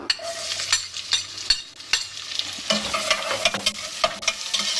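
Onions frying in about a tablespoon of olive oil in a saucepan, with a steady close sizzle and repeated sharp scrapes and knocks of stirring, alone without talk.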